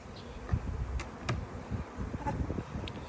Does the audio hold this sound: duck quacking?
no